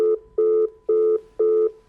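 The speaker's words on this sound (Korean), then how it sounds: "그런 다음 전화는 끊어져 버렸다." A telephone line cuts off and sounds a disconnect tone: four loud, evenly spaced beeps with short silent gaps between them, clear and alone.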